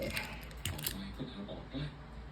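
A Samsung ES9 digital camera gives a short shutter click, close and fairly loud, with someone talking over it.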